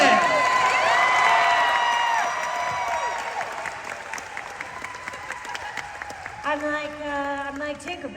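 A crowd at a voice actor panel at Sonic Expo Dallas 2025 applauds and cheers loudly, the clapping thinning out as a few voices call out over it.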